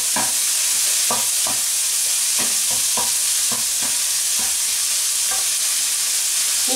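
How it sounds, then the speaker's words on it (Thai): Onion stir-fries in a hot pan with a constant loud sizzle, punctuated by repeated scraping strokes of a spatula at an irregular rhythm, close and without talk. "เอาละอันนี้ก็ทำการผัดเขา"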